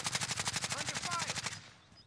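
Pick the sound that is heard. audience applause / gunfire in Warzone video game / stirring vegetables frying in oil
gunfire in Warzone video game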